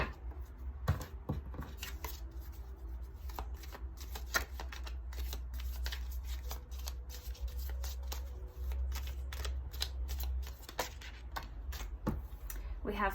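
Tea leaf fortune cards are shuffled by hand in a soft, continuous riffle of papery slaps and clicks that runs the whole time, close up and fairly quiet, with a low hum underneath.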